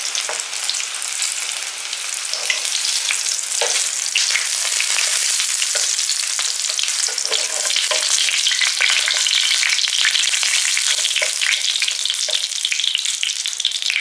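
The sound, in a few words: eggplant frying in oil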